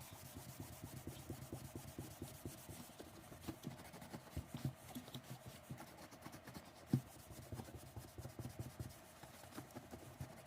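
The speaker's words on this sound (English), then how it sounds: "I'm just going to use some rubbing alcohol to clean the surface up before I continue" Cloth damp with rubbing alcohol wiped back and forth across a cracked plastic car bumper, a soft continuous rubbing with quick scuffing strokes and one sharper tap, close and quiet, without speech.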